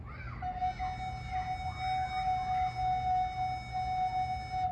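A single sustained, steady woodwind tone held for several seconds, clear and pure, with faint background noise around it.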